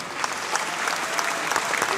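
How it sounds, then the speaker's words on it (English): Light applause from a boxing crowd after a heavyweight bout near Berlin, Germany, steady dense clapping for about two seconds with no voices standing out. "Light round of applause there for both men."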